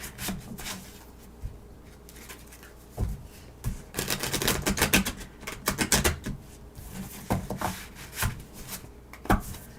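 Soft papery shuffling and riffling of tarot cards in bursts, close by, with faint rustles and taps between rounds and no talk.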